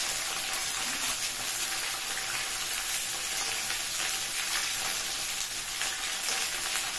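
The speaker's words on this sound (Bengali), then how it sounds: "এখন ফুলকপিটাকে আলুর সঙ্গে একটু ভেজে নেব" Cauliflower frying with potatoes in a hot pan, a steady dense close sizzle that runs unbroken throughout with faint stirring scrapes.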